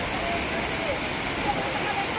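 Clear water flows in a steady broadband rush like a small waterfall or stream, constant and fairly close throughout, with no distinct change in level.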